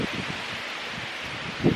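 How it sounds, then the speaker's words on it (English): Wind blows outdoors as a steady broadband rush with soft rustling, fairly faint and even, and a brief low buffeting gust near the end. "getting so windy outside"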